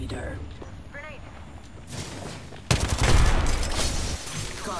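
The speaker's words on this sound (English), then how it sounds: "Getting shot at." Gunfire in the Apex Legends video game: after a player voice, a sudden dense burst of rapid shots erupts and continues loudly to the end.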